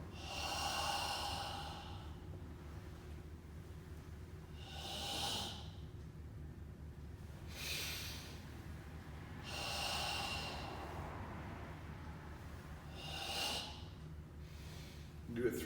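Deep breathing exercise led by a sensei: slow, repeated breathy inhales and exhales, about five long cycles with quiet pauses between, close and soft over low background hum.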